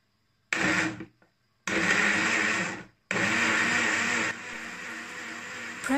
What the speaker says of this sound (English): Press and hold the blend button to operate your blender.